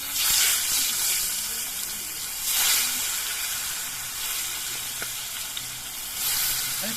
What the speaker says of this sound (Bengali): এবার মাছগুলোকে আমি ভেজে নিচ্ছি